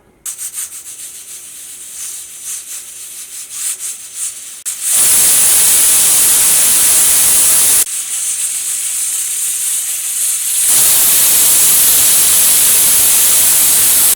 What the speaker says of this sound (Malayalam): ഇപ്പോൾ കുക്കറിൽ നിന്ന് 2 വിസിൽ വന്നിട്ടുണ്ട്